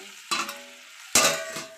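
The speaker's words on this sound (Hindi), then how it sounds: "छौंका लगा के आलू बरबट्टी का सब्जी बनाएंगे" Potato and yardlong bean curry being tempered in a hot pan, giving two sharp bursts of sizzling and stirring, each fading back to a quiet background, with no voices.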